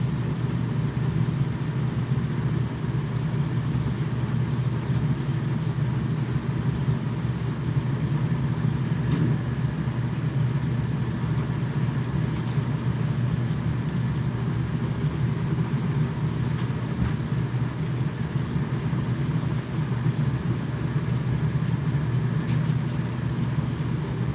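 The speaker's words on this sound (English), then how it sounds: "I do want to get a tune on this" An RC car engine idles at an indoor warehouse hobby raceway on race day, a steady, close, unbroken drone that runs the whole time with no talk over it.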